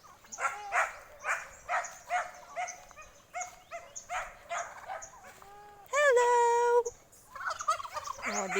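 Farm turkeys gobble in repeated loud bursts, several in quick succession, with a sustained trilling call near the end; nearby and clear.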